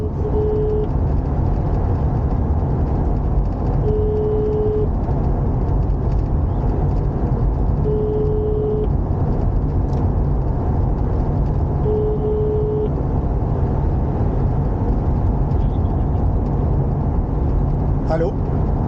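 Inside a car cruising on a French motorway at about 117 km/h, a steady engine and road drone fills the cabin while a warning chime sounds briefly about every four seconds.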